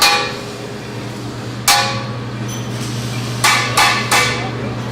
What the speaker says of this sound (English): this is where we'll do a lot of hammering and sculpting of metals